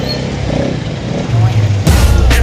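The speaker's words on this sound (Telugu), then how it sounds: "ఫుల్ ట్రాఫిక్లో బుక్ అయిపోయాం గైస్." Busy city road traffic in Nellore, with car and motorbike engines rumbling and revving close by in a steady mass, and a louder engine surge near the end. People talk over the traffic.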